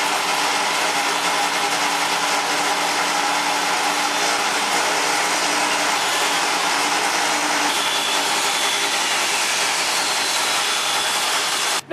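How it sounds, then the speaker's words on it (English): A saw rips wood pieces down to 3/8 inch thick for frame border strips, giving a loud, steady broadband whine that runs continuously for the whole stretch and cuts off abruptly at the end, with no talking. "cut a few pieces to a rough length and go ahead and rip them down to 3/8 of an inch"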